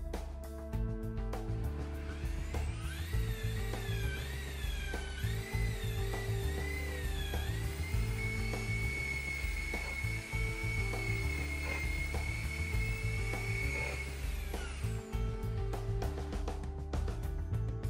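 A buffing tool whirs steadily on a car headlight lens being polished with Malco headlight lens repair polish, a continuous close motor drone with a rising, wavering whine through the middle.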